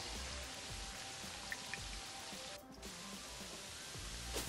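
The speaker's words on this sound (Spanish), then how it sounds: "Se fue la lluvia. Viene la lluvia." Steady rain in the video game Terraria, a dense continuous patter that fills the whole stretch with little change apart from a brief dip midway.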